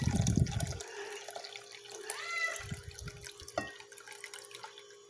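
Ice-cold water is poured for making gelatin, with a brief splashing gush at the start, then faint trickles, drips and light kitchen clatter.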